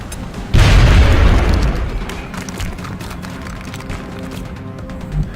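An explosion in the XCOM strategy game blows apart a statue: a single loud, close boom with a heavy low rumble that decays over about a second into quieter background noise.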